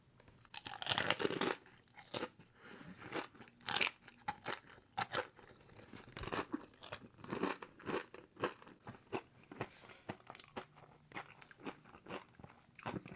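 Crisp, repeated crunching and chewing of a fried wonton from Panda Express, close to the mouth, with irregular bites and chews packed throughout and no talk.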